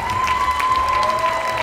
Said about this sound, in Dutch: En ook een hartelijk applaus voor Olivia Tellaronic.